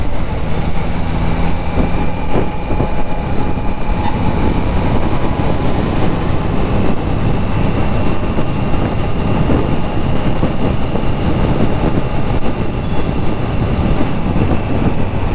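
Triumph Trident motorcycles riding in a group toward Tindivanam on an early Sunday morning, a continuous rumbling exhaust drone mixed with road and wind roar, steady and loud throughout.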